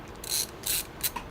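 A screwdriver turning motherboard screws into a gaming PC case, heard as a few short bursts of clicking and ratcheting with pauses between, close and fairly quiet.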